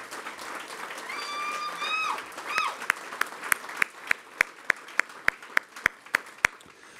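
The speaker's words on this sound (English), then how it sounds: "That's absolutely worth an applause." Applause from an audience at an election night speech swells with whistles and cheers, then thins out to a few sharp, isolated claps from someone nearby.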